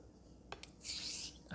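A Wacker Best Tradition 7/8 straight razor is stroked back and forth across a Shapton and Japanese natural sharpening stone, giving a couple of short scraping ticks and then a longer, louder rasping sweep, close and quiet, with no talking.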